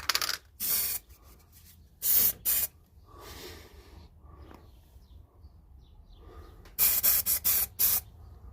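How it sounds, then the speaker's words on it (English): Short hissing bursts from a spray can painting a guitar body, a couple early and a rapid cluster near the end, with quiet handling noises between them. "I'm just going to spray a tiny little bit down here in the corner."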